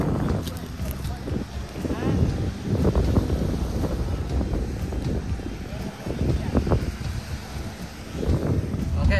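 Strong wind buffets a boat at sea, a steady roaring rush with gusty swells throughout, with no clear voices over it.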